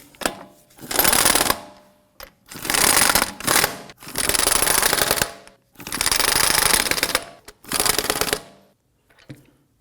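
Lug nuts on a Volvo XC90 front wheel being snugged down with a power tool: five loud, close rattling bursts of one to two seconds each, separated by short pauses, with no talking.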